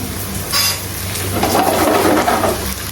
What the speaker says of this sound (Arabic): شوفوا هي بترغرغ في الزيت كده